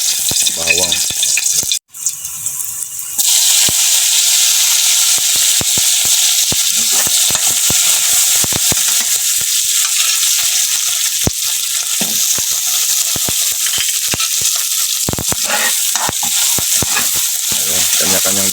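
Garlic fries in hot oil in a pan with a loud, continuous sizzle. A brief gap comes just before the frying swells, and scattered pops and stirring clicks run through the steady hiss.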